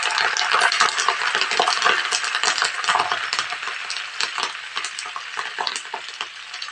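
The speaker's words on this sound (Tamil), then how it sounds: "இந்த நெய் சூட்டிலேயே முருங்கைத்தலையும் பொரிஞ்சு நல்லா காயணுங்க" Drumstick leaves frying in hot homemade ghee in a pan, a steady loud sizzle and crackle with occasional stirring clinks, continuous throughout without talk.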